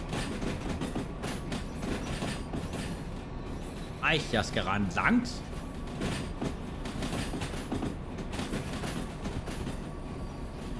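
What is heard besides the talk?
freight train and locomotive running in Derail Valley video game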